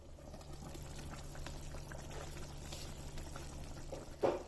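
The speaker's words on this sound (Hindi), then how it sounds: "अब इसे कवर करके 8 से 10 मिनट तक पकने देना है।" Faint, soft bubbling of nargisi kofta curry gently simmering under a lid, low and steady, with one small clink near the end.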